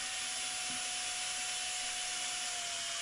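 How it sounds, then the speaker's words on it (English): Electric drill boring a fret hole in a guitar neck, a steady continuous high whine running alone at close range. "when you turn the drill on"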